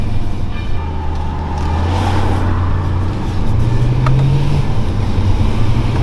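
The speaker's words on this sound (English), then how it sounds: "Oh, that is really smooth, really smooth, changing up the gears even with the paddles" A BMW E92 M3 with a V8 drones steadily from inside the cabin as it pulls through paddle-shifted gear changes, its low engine note stepping in pitch amid road noise.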